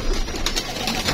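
Pigeon cooing close by, a short soft throaty burst lasting about a second, clear and alone with no talk.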